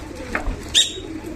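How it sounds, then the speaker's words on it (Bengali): Pigeons flying at a village house give a brief coo and soft wing sounds, close by over low background noise. "এই কবুতরগুলো ওনার বাসায় উড়তেছে।"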